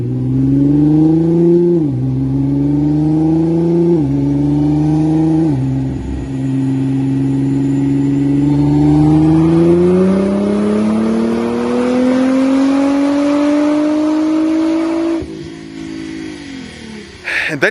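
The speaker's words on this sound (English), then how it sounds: "I'm gonna post up the video right now of it doing the pulls on the dyno itself." Nissan GTR running on E85 fuel making pulls on a dyno, its engine loud and close, climbing in pitch in repeated surges through the gears, then one long sustained rise before the revs drop off abruptly near the end.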